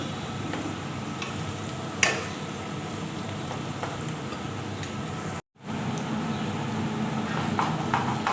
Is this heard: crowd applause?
no